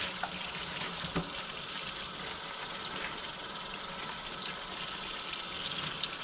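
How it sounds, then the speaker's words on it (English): Water pours steadily from a tap into a zipper bag holding a wet-felted piece, a continuous close hissing rush with a few faint knocks, and no voices. "So don't be afraid to just pour some water in there."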